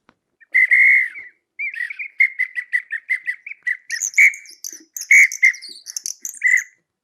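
Birds chirp and whistle at dawn in a morning chorus, a steady run of bright, close tweets with higher trills and calls layered on top, clear and lively with no talking.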